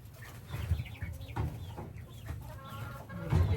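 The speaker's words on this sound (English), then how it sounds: "They're chickens." Chickens cluck and murmur close by in a low, continuous chatter, with a few louder clucks rising toward the end.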